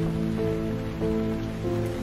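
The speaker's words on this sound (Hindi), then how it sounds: "तभी गुल्ली इन लोगों से कहता है हम लोग कब तक इस बारिश में इसी तरह दौड़ते रहेंगे" Steady rain falls in a cartoon scene near a train, a continuous even hiss with a low tonal hum underneath and no voices.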